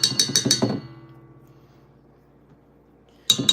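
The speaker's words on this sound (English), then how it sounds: "we're gonna scrape off our little paddle" A spatula scrapes a stand mixer's paddle in a few quick, sharp metallic scrapes, then quiet, then another burst of scraping at the end.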